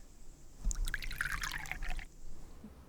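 Tea is poured into a cup, a soft, close splashing stream of liquid lasting about a second and a half against a quiet background.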